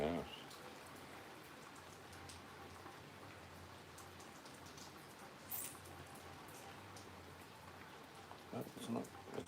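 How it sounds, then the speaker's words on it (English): Rain falling steadily as a soft, continuous patter at a distance, fairly faint, with a few brief louder bumps and rustles near the start and end. "It's raining."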